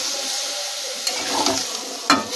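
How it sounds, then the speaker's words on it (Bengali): Vegetables with stalks of Malabar spinach are stirred in a pan just after water is added, a soft steady hiss with a few scraping clinks of the spoon near the end, close and alone. "জলটা দিয়ে একটু নাড়িয়ে নেব আমরা।"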